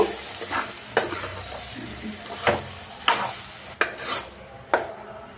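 A spoon stirs and scrapes potato and green chilli masala fry around a pan in irregular strokes, with soft sizzling underneath and occasional sharp knocks against the metal.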